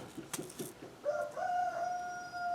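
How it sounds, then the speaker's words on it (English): A rooster crows clearly in a long drawn-out call after a few short rustling knocks, fairly close and distinct. "can't do one of these without a rooster crowing"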